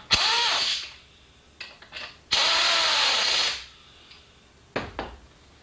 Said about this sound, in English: And bolt them on.